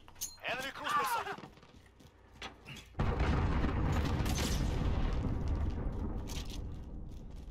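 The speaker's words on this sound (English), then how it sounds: "Enemy cruise missile." A cruise missile explodes in Call of Duty: Modern Warfare: a sudden loud blast that settles into a long rumbling roar. Brief talking and clinks come before it.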